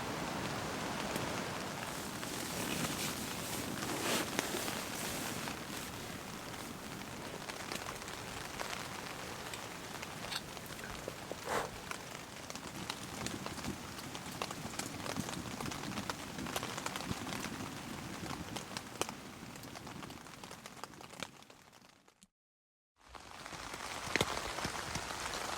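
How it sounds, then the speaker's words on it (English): Rain and wind beat on a hot tent at night, a dense, steady roar of drops on the fabric with gusty swells, continuous and close, broken by a brief silent gap near the end. "I'm just going to lay here, listen to the rain and the wind"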